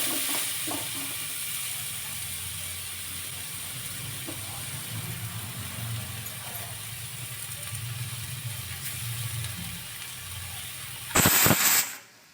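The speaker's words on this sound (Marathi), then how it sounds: "तेल गरम झालं की त्यामध्ये चिमूटभर हिंग घालायचं आहे आणि त्यानंतर मग हे वाटून ठेवलेलं जे वाटण आहे मिरचीचं ते घालायचं." Ground green chili paste sizzles in hot oil with a pinch of asafoetida. The frying hiss holds steady at moderate loudness, then a sharp louder burst of crackling comes near the end.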